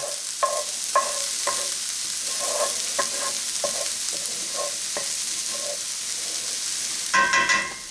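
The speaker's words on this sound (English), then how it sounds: "I'm going to kind of move all the onions to one side." Onions frying steadily in a pan for corned beef hash, with a continuous sizzle broken by repeated scraping spatula strokes as they are pushed to one side, ending in a louder burst of scraping.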